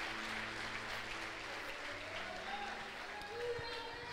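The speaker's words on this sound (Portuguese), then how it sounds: "Eu quero que você fique em pé e aplauda Jesus" A church congregation stands and applauds during a worship service, a steady, moderately distant wash of clapping with faint voices and tones underneath.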